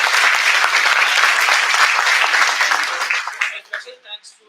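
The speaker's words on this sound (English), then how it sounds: "I'm requesting all the students to give a big round of applause for all of you" An audience in a seminar hall applauds with dense, loud clapping that holds steady for several seconds, then thins into a few scattered claps and fades out.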